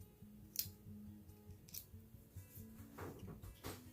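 Small scissors snip thread repeatedly while making a fabric flower button, crisp quiet metallic clicks close by, with soft handling noises in between.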